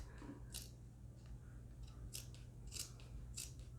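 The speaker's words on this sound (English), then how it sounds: "cut it right down the center, through both layers of fabric" Scissors snip through two layers of fabric while sewing a craft apron, four crisp, quiet cuts spaced about half a second to a second apart, with no one talking.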